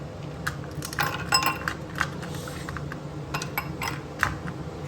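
Ice cubes dropped and clinking against a container at an outdoor snack stall in a Kashmir park, a scatter of bright clinks and rattles over a steady low background hum.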